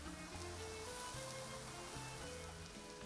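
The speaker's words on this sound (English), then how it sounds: "let me put my mic really close so you can hear that sizzle" Beef fajitas sizzle loudly and steadily in a hot pan, a dense crackling hiss heard up close with no talking.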